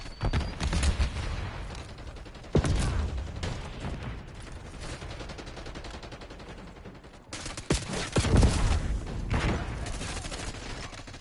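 Gunfire and a thrown Semtex grenade blast in Call of Duty Black Ops 6, with rapid automatic bursts, sharp close detonations around the third and eighth seconds, and a brief dropout between loud stretches of combat.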